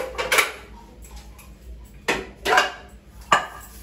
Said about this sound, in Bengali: চায়ের বাসন কটা মেজে ধুয়ে রেখে দিই।